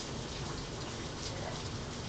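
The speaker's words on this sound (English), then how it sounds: "And can you guys hear the loud pouring rain?" Heavy rain pours down steadily, a dense, constant roar of drops with no pauses.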